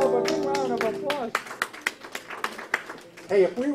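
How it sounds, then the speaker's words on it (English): Christmas sing-along audience applauding in a burst of clapping at the end of a song, with sung voices fading out at first and scattered claps and cheers following. "Give yourself a big round of applause."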